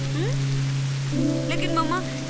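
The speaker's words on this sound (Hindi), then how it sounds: "पता है यहाँ पर भी कितनी बारिश हो रही है" Heavy rain falls as a constant wash of noise beneath sustained musical tones, with a voice briefly speaking over it.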